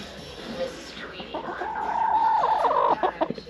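A chicken clucks indoors in a farmhouse setting, a few soft calls building into a louder drawn-out cackle near the middle, with a person talking faintly around it.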